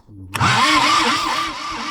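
A Universal-445V tractor engine that has stood idle a long time cranks and catches with a sudden loud burst, then runs at a rough, wavering pitch nearby.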